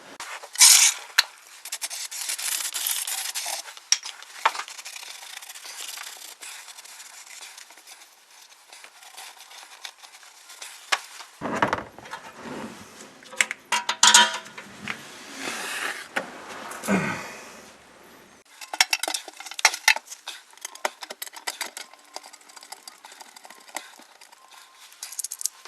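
Bolts on the transmission pan of a 2003 Chevrolet Impala are threaded in by hand and snugged down, giving scattered metallic clinks, scrapes and rubbing with short pauses between bursts and no talking.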